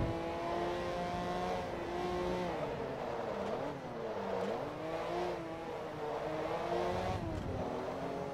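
A race car engine in the video game Forza Motorsport 2 drones at a moderate level, revving and easing off through corners with pitch sweeping up and down continuously.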